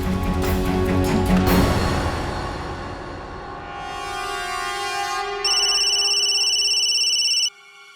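A telephone ringtone chimes in a short melodic pattern, then shifts to a steady electronic ring before cutting off abruptly.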